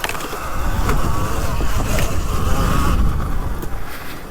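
A Sur Ron Ultra Bee electric dirt bike accelerates out of corners with a buzzing, whirring motor whine under loud rushing wind, sustained and close throughout.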